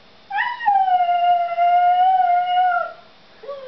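A husky howls in reply to someone imitating a chicken's cluck, one long clear howl held for about two and a half seconds, then the start of a second, close and loud.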